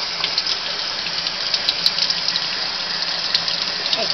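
Water running steadily from a tap, rinsing a toy train in a wash down, a constant close splashing hiss with small splatter bursts and no talking.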